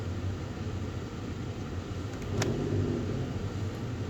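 Steady traffic on a main city street in Białystok, a continuous far-off roar of passing cars with a faint rise from a nearer vehicle toward the end, no voices.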